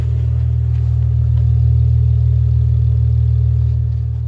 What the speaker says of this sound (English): Exhaust is kind of loud.